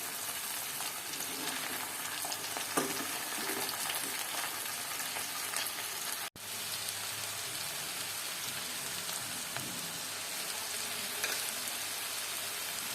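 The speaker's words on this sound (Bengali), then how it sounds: "এবার সবজিগুলোকে ভালো করে নেড়ে দেবো।" Vegetables frying in a pan and being stirred, heard as a steady, moderately faint hissing sizzle with occasional stirring scrapes, broken by a brief dropout partway through; no talking.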